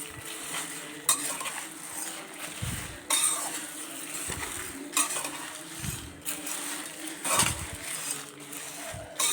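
Asafoetida, garlic and curry leaves sautéing in a pan for idli gunpowder, a low sizzle under repeated spoon scrapes and knocks on the pan, close and moderately quiet, with no voices.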